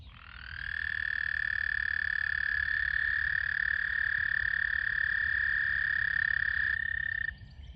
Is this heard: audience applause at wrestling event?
no